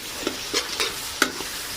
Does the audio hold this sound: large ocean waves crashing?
no